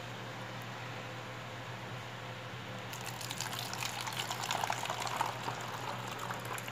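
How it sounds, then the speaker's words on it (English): Liquid poured into a plastic bottle for an elephant toothpaste experiment: faint room tone at first, then a gurgling stream of liquid starts and runs steadily to the end. "we're going to pour some inside the bottle"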